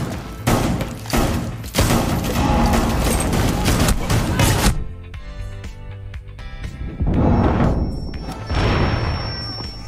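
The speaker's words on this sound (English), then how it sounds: "That's just a bunch of explosions and shit." Dense bursts of gunfire and explosions from Rainbow Six Siege tactical room clearing, loud rapid fusillades with crashing impacts, a brief lull of scattered thuds, then another heavy burst.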